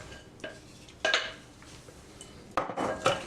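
Cornbread batter for brown butter cornbread going into a baking pan, which is then given a shake: a few short scraping, clattering knocks of a pan and utensil, close and fairly quiet, with gaps between them.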